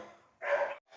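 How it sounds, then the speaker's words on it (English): A dog barking outdoors alongside a neighbouring dog, heard as one loud burst of barking in the middle with a fainter bark trailing at the end, somewhat distant. "Sorry for my dog barking out there. He's barking with the neighbor's dog."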